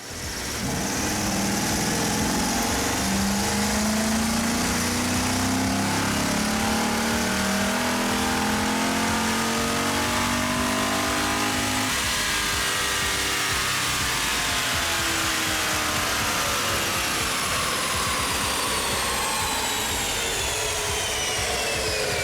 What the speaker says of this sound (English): Here we go with a quick dyno pull. Tons of belt noise.